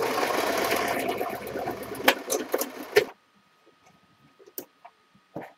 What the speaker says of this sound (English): I'm about to put my stitch on a zigzag.